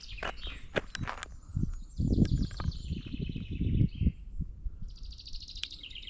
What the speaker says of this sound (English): Listen to those birds tweeting away.